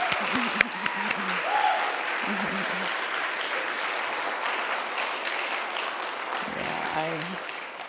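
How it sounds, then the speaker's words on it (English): An audience applauds steadily for several seconds, a thick even patter of many hands, with brief voices at the start and near the end. "I celebrate the applause with you on that one."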